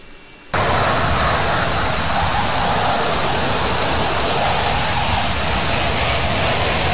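An F/A-18 jet engine in the Falcon BMS flight simulator spools up for takeoff on a runway, a sudden jump to a loud, steady, broadband roar that holds without letup and drowns out everything else.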